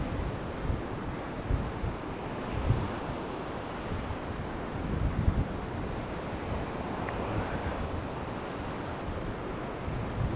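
Sea surf and strong wind on a beach at Vityazevo near Anapa on the Black Sea coast, with continuous rumbling waves and gusty wind buffeting the microphone throughout, a few louder surges rising above the steady roar, and no speech.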